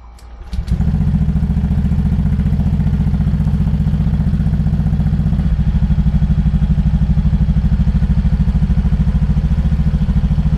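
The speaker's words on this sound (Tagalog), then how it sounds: "Pwede natin ngayon painitin ng motor." A Honda Beat V3 scooter engine starts after an oil change and warms up, settling into a steady, close, loud idle with a fine rapid putter and a faint mechanical clatter, no talking.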